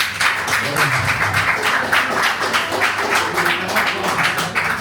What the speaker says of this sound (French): Et qui vient voir Joël par applaudissement?